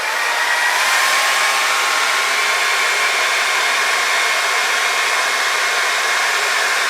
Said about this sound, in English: I'm just going to use the blow dryer straight up and down to move paint